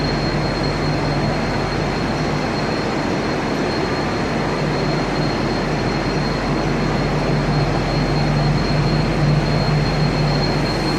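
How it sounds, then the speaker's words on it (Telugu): Platform ambience at Southern Cross railway station in Melbourne: a constant loud, even rumble of idling trains and station machinery with a faint steady hum, no voices. "ఈ మెల్బోర్న్ సదరన్ క్రాస్ స్టేషన్స్."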